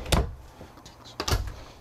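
Sliding wardrobe drawers in a 2022 Keystone Cougar 29RKS RV give two short knocking thuds, each followed by a brief rattling slide, close and clear with no voices.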